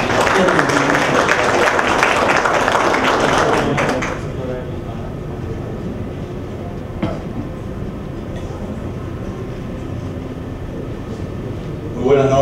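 Loud audience applause at a press conference fills the first few seconds, then fades into a murmuring room with a person speaking over the background.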